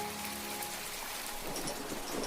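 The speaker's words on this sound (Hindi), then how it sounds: "अरे ये क्या, इतनी तेज बारिश और हवा!" Heavy rain lashes down with strong wind under dark clouds, a dense, steady wash of noise that continues evenly and fairly loudly, with no voices.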